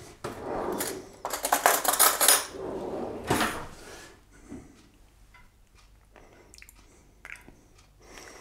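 A teaspoon clinks and scrapes against a bowl while stirring homemade hummus with tahini, in quick uneven bursts of metallic taps and soft squishing, loudest early on and then trailing off into sparse light clicks.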